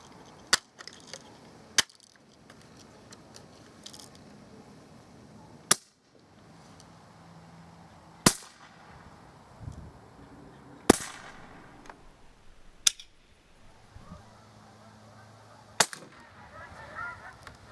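A Barra 1866 BB rifle fires about eight sharp, single shots outdoors. The shots are spaced irregularly a few seconds apart, with quiet background between them.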